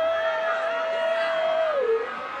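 Fans at a Thai press conference screaming and cheering as a star arrives, a sustained high-pitched shriek over crowd chatter that holds steady and then bends downward near the end.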